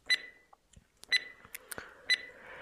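Timer beeping in a 2D ASMR hand-treatment animation, three evenly spaced bright electronic beeps about a second apart, with small clicks and ticks scattered between them and no talk.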